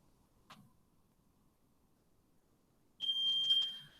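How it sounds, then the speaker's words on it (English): A fire alarm sounds with a loud, piercing, steady high electronic tone starting partway through after near silence and a single faint tick, close and continuous to the end. "The fire alarm is going off"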